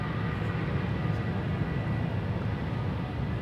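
A KLM Boeing 737-800 jet taking off from Schiphol's Polderbaan runway, a steady distant low roar of engine thrust with broadband rumble and no voices.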